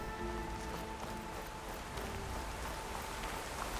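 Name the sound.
rain in the video game Horizon Forbidden West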